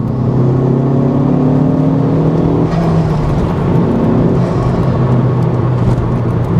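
A Honda Civic Type R FK2 engine with an Eventuri intake revs up with a rising whine, drops briefly as the gear changes into third, then pulls again loudly with a throaty intake roar.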